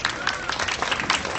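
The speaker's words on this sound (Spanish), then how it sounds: "Aplausos para mi amiga." Audience applause for a child volunteer at a science clown show in Pinotepa Nacional, brisk scattered clapping running throughout, mixed with a voice talking over it.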